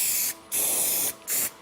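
A cheap aerosol can of spray paint hisses in three bursts over scratched car paint, each a steady, close, sharp spray separated by brief pauses.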